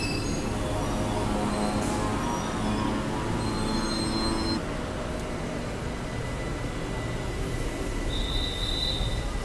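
A BTS Skytrain pulls out of an elevated Bangkok station toward Chatuchak, with a continuous loud rumble of wheels and motors and a few high squealing tones from the rails.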